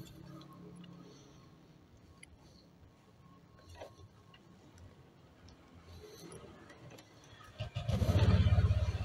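Honda Vario motorbike riding along, a steady low engine drone with road noise that swells sharply louder near the end as the scooter accelerates.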